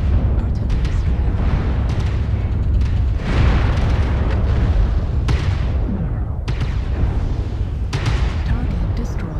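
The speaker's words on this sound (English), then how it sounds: "Artillery strike." Artillery strike shells land in MechWarrior Online, a loud run of heavy booms and crackling blasts with a few sharper hits around the middle and near the end, over constant battle noise.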